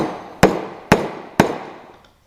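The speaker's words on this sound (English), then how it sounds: "if I put nail onto the wood and then you pound it in" A claw hammer drives a nail into wood with three sharp, evenly spaced strikes, each ringing briefly before fading, close and loud with no talking.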